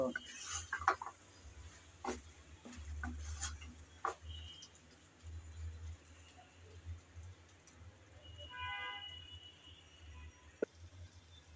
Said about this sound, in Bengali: টমেটোটা দিয়ে আবারও দ্বিতীয়বার ভালোভাবে নেড়ে চেড়ে কষিয়ে নেব